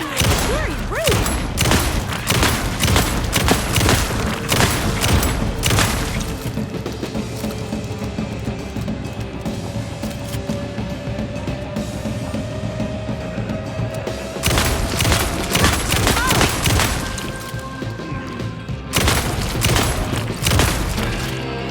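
Gunfire in the video game Alan Wake 2 Night Springs, with dense rapid volleys of shots and booming impacts pounding loudly and almost continuously, easing briefly in the middle before more bursts.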